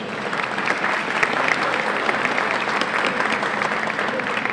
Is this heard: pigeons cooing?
no